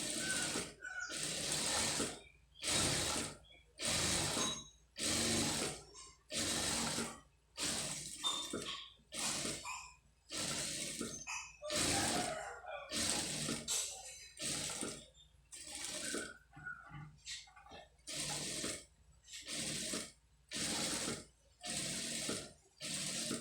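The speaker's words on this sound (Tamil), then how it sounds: "இதிலே வந்து இந்த பக்கமாக ஒட்டில் வந்து ஒரு தையல் வந்து போட்டுருங்க" A domestic sewing machine stitches along the edge of an embroidered blouse, running in repeated short bursts of rapid mechanical whirring and clatter separated by brief pauses, close and fairly loud with no talking.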